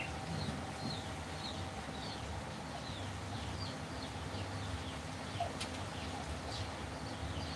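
Birds chirp and call repeatedly at dawn at five in the morning, short high calls spread across a steady background hum, with a few clucks from fowl nearby.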